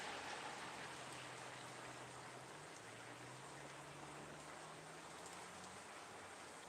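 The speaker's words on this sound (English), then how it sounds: "It's raining." Steady rain falls outdoors at night, a soft, even wash of patter, with a car faintly passing underneath.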